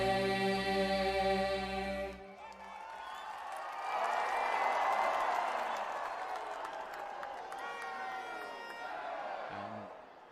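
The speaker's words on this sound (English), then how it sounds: "They're all cheering up, and everybody stood up for the national anthem." Stadium crowd at the Asian Legends League 2025 cricket final, Indian Royals vs Asian Stars, breaks into a loud, sustained roar of cheering and applause right after a short stretch of music, the noise swelling and fading over about eight seconds.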